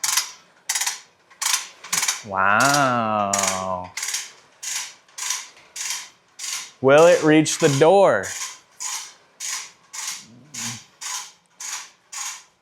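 Harbor Freight Earthquake XT hose reel winding and paying out hose, a steady ratcheting, clicking mechanism in regular pulses, up close, with someone talking briefly over it.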